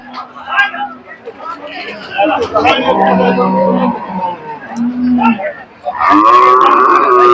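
Large cattle moo repeatedly at a busy livestock market in Kalampur, loud and close, with a crowd talking and murmuring around them.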